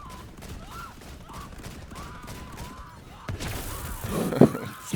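Rapid shotgun blasts in the Borderlands 3 video game, a burst of loud close booms near the end over a looping electronic tone and game noise.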